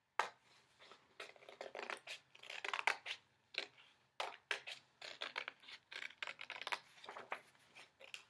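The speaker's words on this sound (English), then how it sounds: "The next thing you're gonna do is cut your cloud out." Scissors cut a cloud shape out of paper, making close, quiet snipping and rustling that repeats in irregular clusters throughout.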